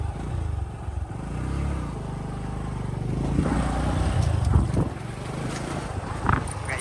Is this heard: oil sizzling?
no